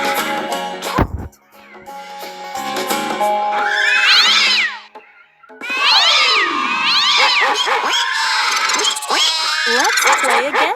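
Cat meowing repeatedly over background music in a farm-animal kids' game, several rising-falling meows spread across the clip after a brief pause, fairly loud and close.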